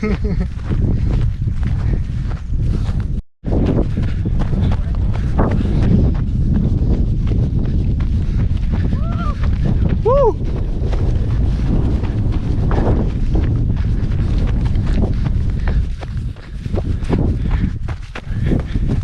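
Wind buffets the microphone in a steady, loud rumble throughout an outdoor trail run near Nong Kang Pla, Phimai, with faint footstep crunches mixed in.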